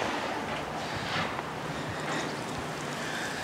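Steady outdoor wind on a snowy day rushes and buffets against the microphone, a continuous broadband roar with gentle gusting swells and no talk.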